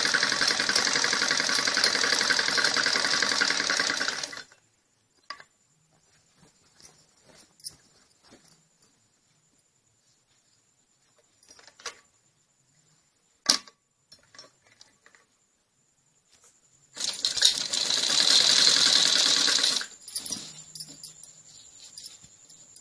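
An electric sewing machine stitches the belt seam of a khajuri salwar, running in two steady, fairly loud bursts of several seconds each, with near silence and a few faint clicks between them.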